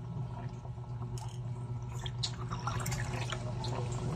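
Water is poured into a cooking pot of remora fish in coconut milk, a continuous splashing and gurgling with small drips and sloshes over a low steady hum, close and moderately loud.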